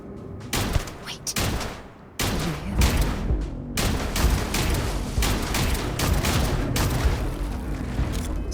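A non-automatic weapon in the Starfield video game fires a series of loud, close shots and booming impacts, dense and continuous, with spoken voices mixed in.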